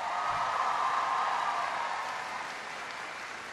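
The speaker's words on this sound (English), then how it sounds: "Give Teresa a big round of applause" Crowd applause for Knox College president Teresa Amont at a speech, a steady broad wash of many hands clapping that fades slightly toward the end.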